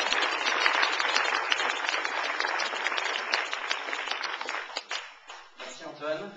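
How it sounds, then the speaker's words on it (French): At a graduation ceremony, a hall full of people claps steadily for a new graduate, a dense roar that thins and fades near the end as a voice begins. "Merci d'applaudir Guillaume."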